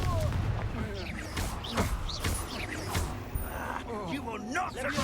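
Confringo spell blasts in a Harry Potter video game, several sharp booming impacts and crackling bursts amid combat effects, with voices speaking over the action.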